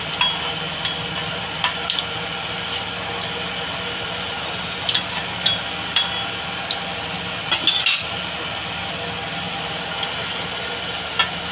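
Dried red chilli and cumin tempering crackles in hot oil for a Bengali hilsa posto dish, a constant fry hiss with occasional sharp pops and utensil clinks, close and without talk.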